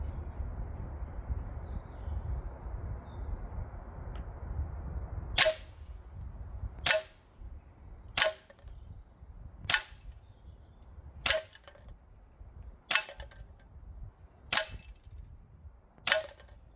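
A Well Pro AK12 gas blowback airsoft rifle running on green gas fires at a 15-meter target: eight sharp, close cracks spaced about one and a half seconds apart, each standing out over a low rumbling background.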